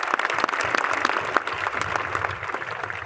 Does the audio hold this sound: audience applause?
yes